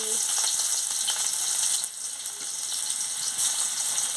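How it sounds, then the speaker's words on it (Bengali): Chopped onion hits hot oil in a pan used for frying murla fish, giving a steady, loud broadband sizzle that dips briefly midway and then holds on, with no talking. "তেল গরম হয়ে গেছে আমি পেঁয়াজ কুচিটা দিয়ে দিচ্ছি"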